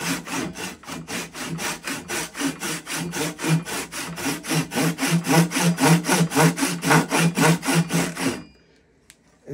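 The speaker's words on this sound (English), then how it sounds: "Take this little handsaw, work my way down" A small handsaw cuts down into wood for knife hafting, with about thirty steady, rhythmic back-and-forth rasping strokes up close, loud and even, ending abruptly in near silence.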